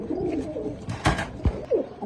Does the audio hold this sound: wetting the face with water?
no